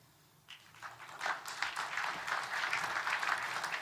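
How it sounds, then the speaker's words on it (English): Applause at the World Economic Forum swells up after a brief quiet moment as speakers come to the podium, continuing as steady, moderately loud clapping from a crowd for a few seconds. "Not a big round of applause for these two."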